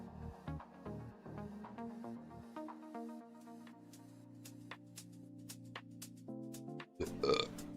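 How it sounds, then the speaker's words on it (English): A person burps into a close microphone near the end, a loud, brief belch following several seconds of quieter tonal background sound. "I didn't mean to burp at the mic."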